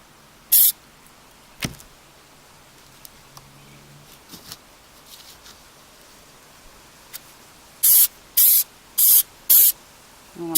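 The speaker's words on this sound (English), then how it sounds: "I'm going to give them a coat of orange paint" Short bursts of an aerosol spray can coating two small pieces with orange paint, a couple of isolated hisses followed by four rapid closely spaced sprays near the end, close and loud against quiet room noise.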